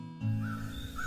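A sandhill crane gives a loud, continuous rolling call that begins abruptly after a brief moment of quiet, near and unaccompanied. Thousands of these cranes gather in the Waterloo area each fall to feed and rest before migrating.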